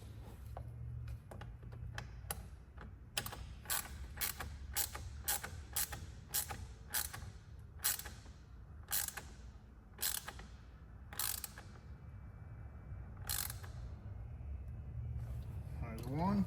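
Lug fasteners being tightened on a Vicrez carbon fiber wheel fitted to a wide-body C8 Corvette, heard as a quick run of sharp ratcheting clicks in repeated bursts, close and fairly loud over a low background rumble.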